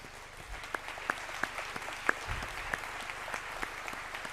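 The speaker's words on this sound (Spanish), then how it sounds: "propongo que aplaudamos el trabajo" Applause fills the hall at the opening plenary of an international Jewish education conference, a moderate, even patter of many hands with occasional louder single claps and a low background hum.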